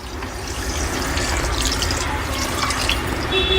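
Water poured from a measuring cup onto sugar in a pan for jalebi syrup, a close, steady trickling and splashing of liquid lasting a few seconds, with no talk.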